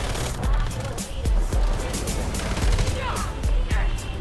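Gunfire in the video game Once Human, with a steady series of heavy shots roughly twice a second, loud and punchy over dense game noise, with a voice speaking over it.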